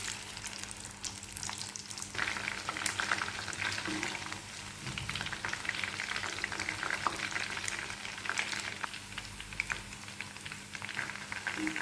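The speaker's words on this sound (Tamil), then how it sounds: "இப்போ நம்ம இதை எண்ணெயில் பொறிச்சு எடுத்துடலாம் நான் எண்ணெய் சூடாக வச்சுருக்கேன்" Soya chunks deep-frying in hot oil for soya manchurian, a steady dense bubbling sizzle with scattered crackles and pops, close and fairly loud throughout, with no voices.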